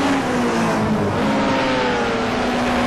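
A TC60 touring race car at Mosport accelerates hard to overtake, its engine giving a loud, steady, continuous roar with a rising whine and no voices over it.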